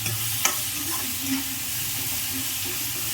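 Food fries in a pan with a steady, close sizzling hiss and a few faint stirring taps, continuous throughout with no talking.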